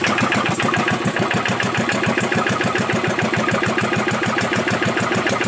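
A car engine runs steadily after being started on the first try following a week-long wait for parts, with a flywheel fitted; a loud, close, fast rhythmic chugging fills the whole span with no talk.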